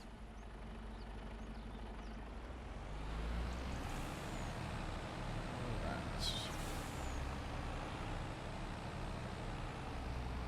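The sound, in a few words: truck engine and air brakes in Farming Simulator 25 video game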